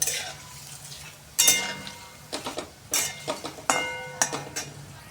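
Grated potato fries in hot oil over a medium flame, heard as bursts of bubbling crackle mixed with metal utensil clinks and scrapes against the pan, coming in uneven bursts with quiet gaps between.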